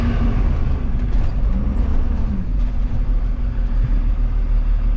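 A tractor drives along at a steady pace, its low droning engine and rumbling running loud and continuous throughout, without talk.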